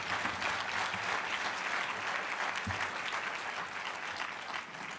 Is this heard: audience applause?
yes